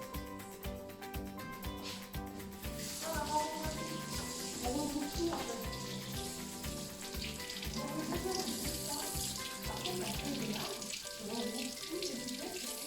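Hot tap water running into a pastry mixing bowl in a kitchen: a steady, close, continuous splashing rush that lasts the whole time, with faint clinks and background kitchen noise.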